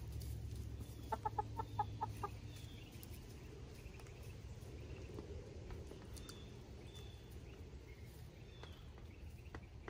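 Chickens cluck softly in short bursts over a low outdoor rumble, with faint bird calls in the background.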